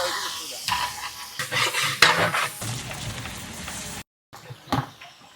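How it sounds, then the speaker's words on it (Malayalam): Green chillies crackle and pop in hot sunflower oil, a busy broadband sizzle with stirring and clanks from metal pots and utensils, broken by a brief silent gap before the frying resumes. "1 കിലോ പച്ചമുളക് ഇടാം. അവിടെ കിടക്കട്ടെ, പച്ചമുളക് ഒന്ന് പൊട്ടട്ടാ."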